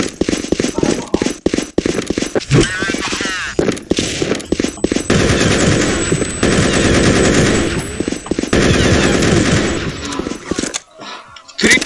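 Dense, continuous automatic gunfire from Counter-Strike 1.6 rattles loudly almost throughout, with bursts and single shots layered together and brief gaps near the end.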